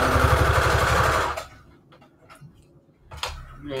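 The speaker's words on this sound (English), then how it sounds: "Let's do a straight stitch" A sewing machine runs a straight stitch through paper scraps, a fast steady clatter for about a second and a half before stopping, followed by quiet handling ticks.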